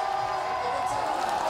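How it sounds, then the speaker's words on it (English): A crowd roars and cheers at a BMX park final in Montpellier, a steady wash of many voices sustained loud throughout without breaks. "The crowd roaring on their feet."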